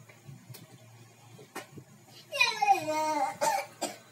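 A child coughs in a couple of short, harsh bursts up close, with a brief whiny vocal sound in between and quiet room noise.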